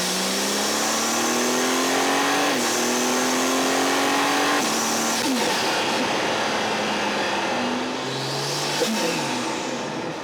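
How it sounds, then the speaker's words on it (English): A BMW G87 M2 with its S58 engine, AWE exhaust and Dynon carbon fiber intakes pulls hard through several gears, loud and close, the raw roar rising and dropping at each shift. "This AWE exhaust, these Dynon carbon fiber intakes just make the sound of this car even"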